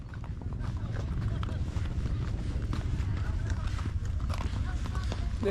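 A horse carries a rider uphill in cold, snowy mountain country near Rohtang, its hooves clip-clopping in a steady rapid rhythm throughout while people talk nearby.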